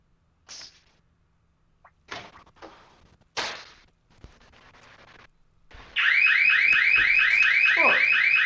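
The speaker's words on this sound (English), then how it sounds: "Somebody alarm going off." A car alarm bursts in after a few scattered knocks and bumps, pulsing in a rapid, repetitive electronic warble that stays loud and continuous until the end.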